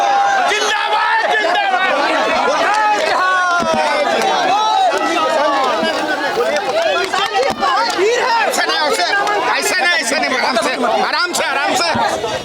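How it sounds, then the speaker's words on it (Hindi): A dense crowd of supporters presses in at Prashant Kishor's nomination filing at the collectorate, a loud continuous babble of many overlapping voices and shouts, with people talking close by throughout. "बहुत भीड़ है।"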